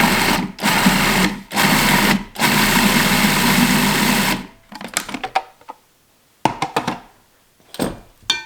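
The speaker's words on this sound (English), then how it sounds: "So I just pureed the sauteed veggies a little bit, really made them into a much finer texture." Sautéed vegetables being pureed in a blender: a loud, dense motor whir in several pulses separated by short pauses, followed by scattered clatters and knocks as the blending stops.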